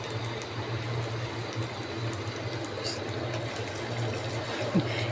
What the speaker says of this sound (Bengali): এই পর্যায়ে আমি পানি দিয়ে দিচ্ছি।